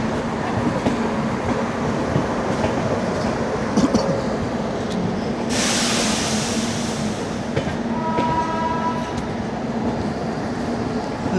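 A train with a locomotive rolls past on an Indian railway line near Palakkad, a loud, continuous rumble with rhythmic clatter, a brief burst of hiss midway and some squealing tones near the end.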